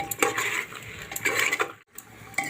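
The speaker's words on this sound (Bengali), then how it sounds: "এবারে যে মশলা মাখানো জলটা ছিল সেই জলটা দিয়েও আমি কষিয়ে নেব" Mutton with ginger-onion spiced water is stirred and fried in a pan, a spoon scraping and clattering against the metal in quick repeated strokes under a soft sizzle, close and busy with one brief pause.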